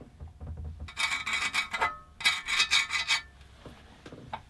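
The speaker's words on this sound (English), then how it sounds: "what we'll do is just put some of the grease on those surfaces" Grease being worked onto sliding metal parts during reassembly of a Burgess BBS-20 bandsaw, two bursts of close rhythmic rubbing and scraping strokes with quieter handling noise between.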